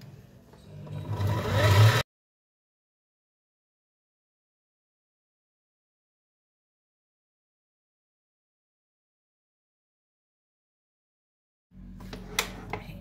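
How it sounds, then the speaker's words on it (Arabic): An electric mixer beats cheesecake batter made with cream cheese and cream, giving a close, loud motor whir for about two seconds. Silence follows, then a brief burst of mechanical noise at the end. "واضرب تاني ده كله مع بعضه"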